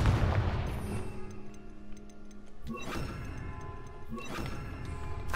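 Confringo blasting-spell explosions in the game Hogwarts Legacy: two booming bursts a second or so apart over a steady musical game soundtrack.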